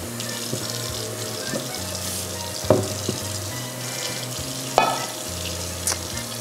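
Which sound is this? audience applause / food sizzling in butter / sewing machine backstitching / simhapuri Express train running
food sizzling in butter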